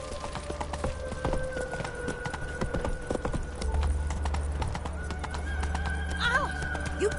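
Horse hooves clip-clopping at a steady walking rhythm in the Witcher 3 video game, with a brief neigh and game ambience around them and a voice speaking briefly.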